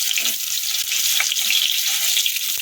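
One potato cut into four pieces fries in hot oil for a cauliflower curry, giving a steady, close sizzle and crackle that runs unbroken through the whole moment with no talking.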